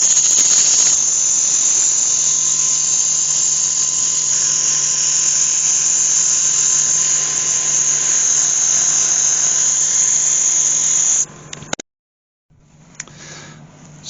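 A cherry wood vase spins on a wood lathe while being sanded, giving a loud, steady, high whine that runs unbroken for about eleven seconds before cutting off abruptly, then a quieter hum resumes.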